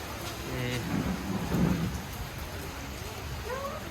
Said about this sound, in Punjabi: ਅੱਜ ਮੀਂਹ ਸ਼ੁਰੂ ਹੋਇਆ ਮੀਂਹ ਮੀਂਹ ਖੋਣੇ ਸ਼ੁਰੂ ਹੋਇਆ